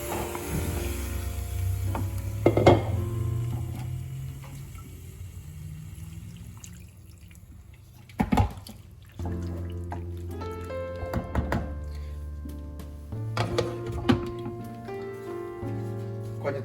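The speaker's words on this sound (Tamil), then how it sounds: "இதில் இந்த இறைச்சியை அப்படியே போட்டு ஒரு கொஞ்சம் தண்ணியும் விட்டு" Water is poured into a cooking pot of mutton for Jaffna mutton curry, heard as several close liquid splashes and pours set between louder knocks and thunks of the pot and utensils, with no talking.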